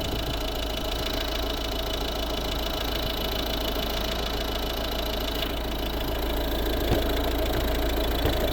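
A 2010 Volvo V50 R-Design's 1.6 D2 diesel engine, 115 hp, idles steadily and evenly, a continuous low rumble with no variation in pace, heard up close.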